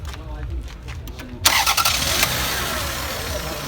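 Toyota Camry 30 at a market in Aktau cranking briefly then catching, the engine roaring up and settling into a steady loud idle, with people talking nearby.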